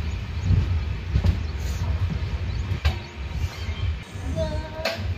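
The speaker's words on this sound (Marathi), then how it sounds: "Gangakhed railway station" A train rumbles at Gangakhed railway station, a continuous low, close rolling noise with faint metallic clanks and a brief squeal near the end.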